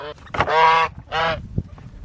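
Two loud, nasal goose honks close by, each lasting under half a second, with a short pause between them.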